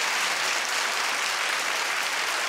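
Dense, steady studio audience applause at a daytime talk show, a loud even wash of many hands clapping with no pauses or talk.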